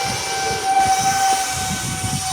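An E-flite Habu 50mm electric ducted-fan RC jet at full throttle gives a brief, steady high whine with a faint rushing roar.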